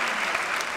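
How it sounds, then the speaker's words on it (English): An audience at a public safety forum claps steadily, a dense even wash of applause close in the room over a short stretch. "You can applaud and cheer for me as much as you would like."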